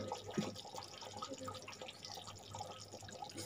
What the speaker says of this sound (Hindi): मैं थोड़ा इसमें पानी ऐड कर डालूंगी